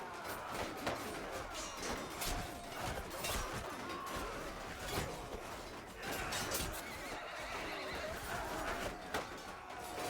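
Horses neigh and whinny repeatedly amid hooves and battle clatter in the Mount & Blade 2 Bannerlord video game, a busy, fairly quiet mix that goes on throughout.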